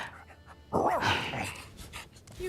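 Panting from a dog in a video game: quick, close breathy huffs with a whiny, rising vocal edge, set over a low soft game background.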